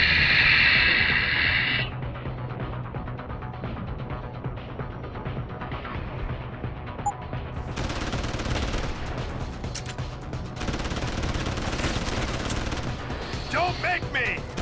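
Guns fire in the action game Deus Ex: Human Revolution: dense bursts of rapid shots and impacts over a constant loud backdrop of game noise, with a voice talking over the action.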